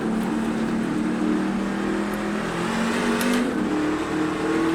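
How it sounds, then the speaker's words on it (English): A NASCAR race car in the iRacing game at Watkins Glen, with a steady loud engine roar and a brief throttle blip that rises and falls in pitch partway through. "forgot to blip the throttle"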